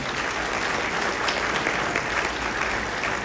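Dense, steady applause from a large audience at a Rotary zone institute held in a resort ballroom, a broad wash of clapping that keeps an even level throughout.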